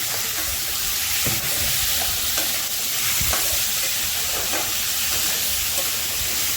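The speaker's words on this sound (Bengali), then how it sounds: "একটু নাড়াচাড়া করলাম এখন দিয়ে দিলাম আগের থেকে কেটে রাখা মিষ্টি কুমড়ো" Pumpkin pieces fry in a pan with turmeric and salt while being stirred, a loud, continuous sizzling hiss with periodic scraping taps of the spatula against the pan, close and without voices.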